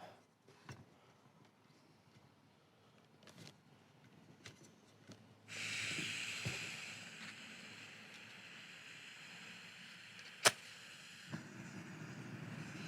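A gas camping stove at a garden camp hisses on abruptly after a quiet stretch, then burns with a steady close roar, marked by a sharp click and a smaller knock.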